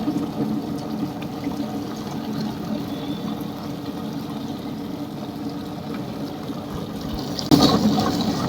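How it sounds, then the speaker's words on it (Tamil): Leftover rice water is poured gradually into fenugreek dosa batter as it grinds, giving a continuous low watery churn with a louder splash near the end, close by and without talk. "இந்த பழைய சோறு தண்ணியே கொஞ்சம் கொஞ்சமாக ஊற்றிக்கலாம்"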